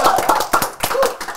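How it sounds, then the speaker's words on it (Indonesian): A small group claps hands close by, sharp separate claps in a loose, uneven rhythm, about a dozen in all, with no one speaking over them. "Tepuk tangan untuk Versus."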